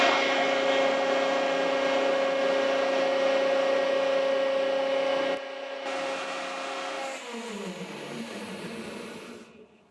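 A hydraulic power unit motor for aircraft hydraulics drones with a loud steady hum, then shuts off partway through, leaving a lower, dropping whine that fades away to near silence.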